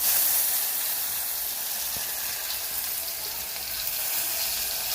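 Tomatoes tossed into hot oil sizzle steadily in a pan for a Gujarati potato curry, a loud, even frying hiss that fills the whole stretch with no talk over it.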